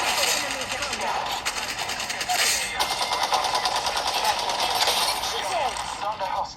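Rapid automatic gunfire from the mobile shooter game Apex Legends Mobile, a dense continuous stream of fast, evenly spaced shots with a busy game-sound backdrop, loud and steady across the whole stretch, with a voice present underneath.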